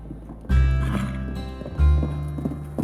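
Two loud, close whinnies from an old mare at a horse sanctuary, each a sustained, pitched call, the first starting about half a second in and the second near the two-second mark, with faint shuffling between.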